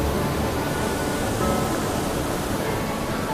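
A huge waterfall in a Nepal city roars without letup, a dense, loud wash of falling water with no gaps and no voices over it.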